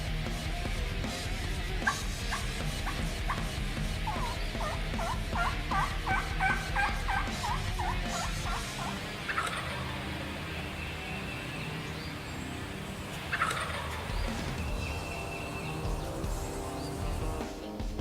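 Wild turkeys gobble from the roost in spring woods at dawn, repeated rippling gobbles at moderate distance over a busy chorus of other songbirds, with no voices.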